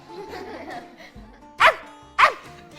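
A dog gives two sharp, loud barks close by, spaced about half a second apart, after a stretch of quieter background chatter and light laughter.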